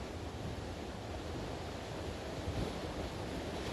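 A constant, even rush of flowing river water, fairly soft and unbroken throughout, with some wind-like hiss blended in.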